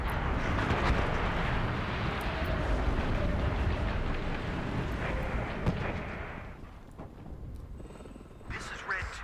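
120mm artillery shells land in WARNO, filling the air with a dense, roaring barrage of blasts and rumble that fades after several seconds into quieter distant noise.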